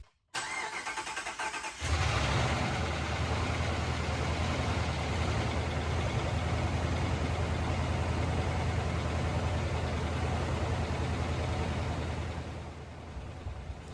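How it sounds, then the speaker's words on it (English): A Ram truck engine cranks and catches after lifter repair work, then runs loud and close with a steady, rough rumble for over ten seconds before easing off slightly at the end. "they'll stop clattering, which they did, but it wouldn't idle. It would just sputter out"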